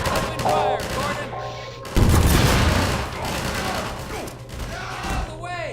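Rapid bursts of gunfire from the Half-Life video game, loud and close, in dense overlapping volleys that swell into a heavier barrage midway through.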